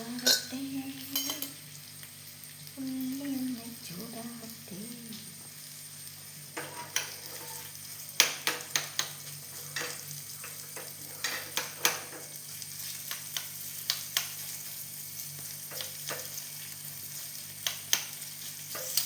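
Onions heat and fry in a pan, a low steady sizzle under repeated clinking stirs of a spoon against metal, close by, with a brief tonal sound near the start.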